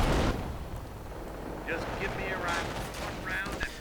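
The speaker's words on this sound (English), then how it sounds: "MG42 opening up." Gunfire and battle noise in a WWII real-time strategy game with an MG42 machine gun, dense rumbling shots and explosions layered over each other, with a commentator talking throughout.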